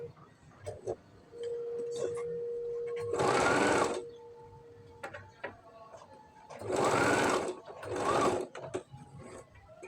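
A sewing machine stitches fabric strips for a patchwork pillow cover made from scrap fabric, running in three loud, steady bursts separated by quiet pauses.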